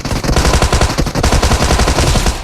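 Rapid automatic gunfire from a Turkish-language online shooter game, loud and continuous with dense rattling bursts filling the whole stretch, no talk over it.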